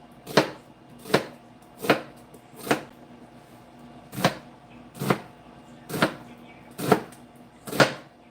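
A knife chops an onion on a cutting board, about ten evenly spaced sharp thunks close by, each one a crisp knock with quiet gaps between.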